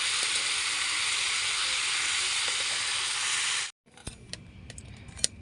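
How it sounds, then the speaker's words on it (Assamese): Tomatoes go into a hot frying pan with fish curry, giving a loud, even frying hiss that stops abruptly after a few seconds, followed by scattered clinks and stirring knocks. "বিলাহীখিনি বহাই দি অকণমান ভাজোঁ।"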